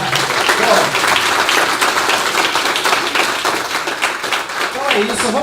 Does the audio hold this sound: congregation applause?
yes